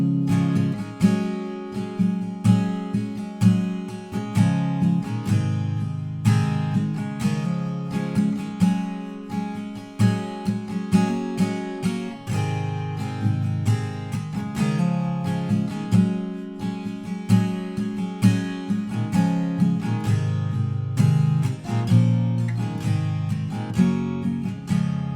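Acoustic guitar strums the chorus chords of a song in a steady, full rhythm, close and fairly loud throughout with no voice.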